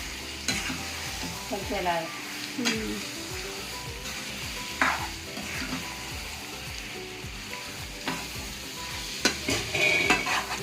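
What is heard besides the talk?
stirring food frying in a pan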